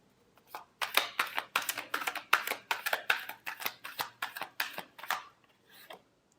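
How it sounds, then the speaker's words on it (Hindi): Tarot cards shuffled by hand in a rapid run of crisp riffling flicks, about a dozen quick bursts close to the ear, with quiet before and after. "Last shuffle."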